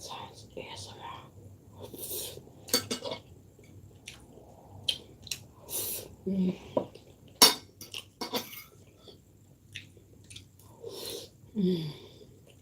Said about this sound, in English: Chewing mouth sounds ASMR.